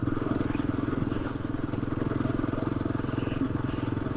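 A motorcycle riding over a rutted road near the Russian border, its engine a steady pulsing drone with faint clatter as the bike is jolted over overlapping ruts, close and continuous.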